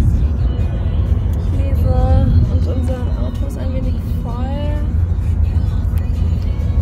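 Rental car in Florida driving along, a steady low engine and road rumble filling the background while people talk over it inside the cabin.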